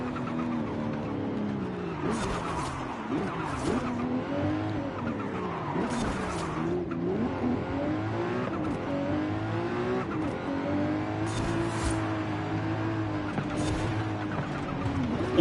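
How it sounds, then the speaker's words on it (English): A twin-turbo V12 car in Forza Horizon 5 roars steadily throughout, its engine pitch rising and falling with hard revving while bursts of tire skidding and squeal cut in repeatedly, loud and up close. "Twin turbo V12."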